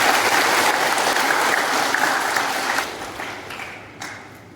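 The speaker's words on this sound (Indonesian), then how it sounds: "Tepuk tangan buat kita semua." An audience at a morning swearing-in ceremony for newly installed village assistants breaks into loud, dense applause that holds steady and then gradually tapers off to scattered claps.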